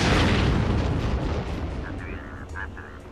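A dropship blows up in the online game Clone Wars Adventures, a loud booming blast that rolls off and slowly fades, with faint electronic game tones rising near the end.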